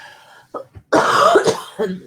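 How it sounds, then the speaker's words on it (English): Several short coughs, a couple of small ones then a harsh, longer rasping fit, followed by one more cough, close and loud. "Please do excuse my coughing as well."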